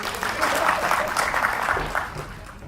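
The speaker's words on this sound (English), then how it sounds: "Give Jules a big clap." A room of participants in a storytelling workshop claps for a classmate. The clapping is soft and blurred, stays steady over a murmur of voices, and then fades slightly.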